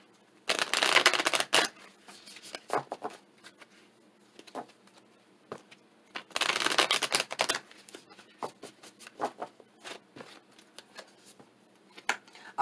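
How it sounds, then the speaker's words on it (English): Moonology Oracle Advice cards shuffled in two loud riffled bursts, followed by scattered soft taps and slides of the card deck handled close by, with no talk. "We're going to pull Moonology Oracle Advice cards."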